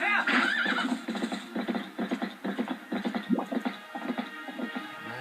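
Horse neighing in the Zelda: Twilight Princess video game: a loud, wavering whinny at the start, followed by quick clip-clop hoof beats and further snorts and whinnies, with someone talking over part of it.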